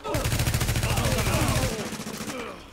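Sustained rapid automatic gunfire from enemies in The Division online co-op, loud and continuous like a machine-gun burst, densely packed shots that thin out near the end, with a player's voice faintly mixed in.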